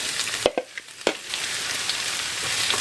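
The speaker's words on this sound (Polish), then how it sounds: "tak obsmażam około 5 minut maksymalnie" Potatoes with bacon fry in a hot pan, giving a steady broadband sizzle with a few sharp clicks and stirring knocks near the start, no talking.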